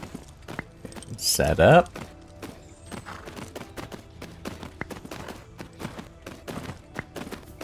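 Horse hooves clip-clop at a steady walking pace in Tales of Rein Ravine, soft and fairly close, under someone talking and a brief louder burst of noise.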